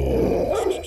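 A small dog in the video game Fragile gives a short, low, rumbling growl, close and fairly loud, lasting under a second.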